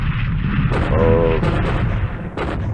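Bombing explosions from the war strategy game War in the Pacific, heard as a loud, continuous low rumble of booms and bursts that fills the whole stretch, with a short voice speaking briefly over it.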